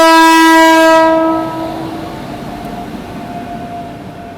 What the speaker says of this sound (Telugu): బట్ అటు సైడ్ నుంచి ఆ ట్రైన్ మాత్రం వస్తుంది